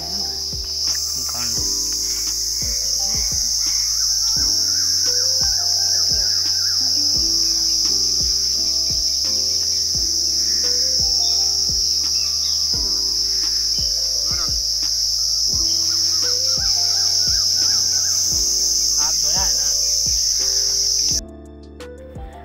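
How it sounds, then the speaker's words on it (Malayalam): Crickets among trees keep up a loud, constant high-pitched shrill chirring, with faint scattered clicks and low tones beneath, cutting off near the end. "ഇതിനകത്ത് ഒരുപാട് ചീവീടിൻ്റെ ശബ്ദം കേൾക്കുന്നുണ്ട് കേട്ടോ"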